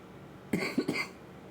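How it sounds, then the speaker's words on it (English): A person who is under the weather gives a short, raspy cough in two or three quick bursts against faint background hum, close and fairly soft. "Please excuse my cough"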